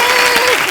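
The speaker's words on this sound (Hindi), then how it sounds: "जोरदार तालियां यार बच्चों के लिए" A studio audience on The Kapil Sharma Show gives a loud, dense burst of applause for a children's dance, heard close and alone.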